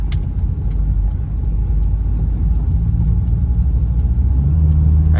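A slow car with a static big-camber build labors up a small road incline, its engine droning in a low, steady rumble that strains and deepens slightly toward the end, close and fairly loud.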